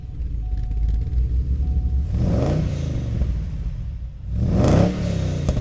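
Car engine fitted with a DPE Manta premium exhaust revs twice, each time swelling into a deep, rich rumble and then easing back to a low idle. The sound is fairly loud and close, with no talking.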